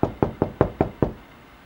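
Knuckles rap on a door six times in a steady, evenly spaced rhythm. The knocks are loud and close, with nothing else heard.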